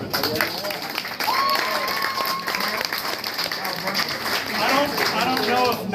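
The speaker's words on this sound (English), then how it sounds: "So, round of applause for it." Audience applause at a surf reunion gathering in a museum, broad clapping filling the room alongside chatter and voices throughout, swelling again near the end.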